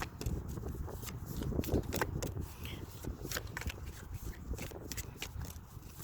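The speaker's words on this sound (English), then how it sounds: "This is how I shuffle." Native American oracle cards on quality cardstock are shuffled by hand close up, giving a quiet run of soft, uneven riffling and flicking clicks throughout.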